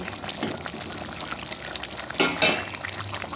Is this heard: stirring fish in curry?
yes